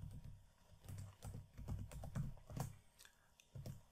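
Steady typing on a computer keyboard, close and fairly quiet, with rapid irregular keystrokes running throughout and no talking.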